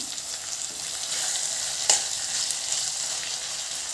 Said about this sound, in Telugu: కొత్తిమీర కూడా ఇందులోకి వేసేసి వేపెద్దాము